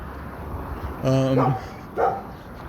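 Outdoors, a dog lets out two barks, a longer tonal one and then a shorter one a moment later, heard at moderate distance over low background noise.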